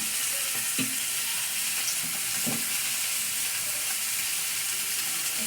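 Oil sizzling and frying in a pan while cooking fish bhuna, a steady close hiss with a few soft clinks of stirring, no talk.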